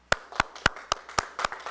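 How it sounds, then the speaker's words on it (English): Rhythmic, sharp claps ring out roughly every quarter second, about seven evenly spaced beats, close and crisp in a quiet room, as a small group claps in unison to welcome someone entering. "Everybody clap by a second when this guy walks in."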